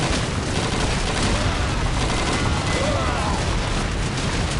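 Grenade explosion amid gunfire in Call of Duty 2 on the D-Day Pointe du Hoc level, heard as a dense, continuous roar of loud shots and booms with no clear gaps.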